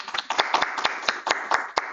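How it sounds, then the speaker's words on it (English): A small group clapping for a retirement at a school board of trustees meeting: about a dozen sharp, uneven claps spread over two seconds, moderately close and without cheering. "And Ms. Muldrow, we'll give you a hand clap"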